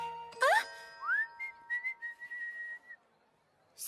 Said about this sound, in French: j'adore siffler en travaillant